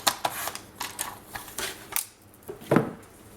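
Scissors snipping through a paper strip for a scrapbook album, a series of sharp irregular cuts and paper rustles at close range with no talking.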